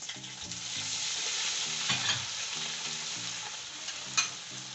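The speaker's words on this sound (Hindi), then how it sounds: "लहसुन अदरक डालेंगे इसमें" Garlic and ginger fry and crackle in a pot for chicken nihari, a steady close sizzle with stirring scrapes and a couple of sharper clatters, set against soft tonal background music.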